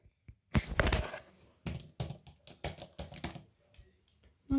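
Bursts of quick clicking keystrokes on a computer keyboard, close up, in uneven clusters with short pauses between them.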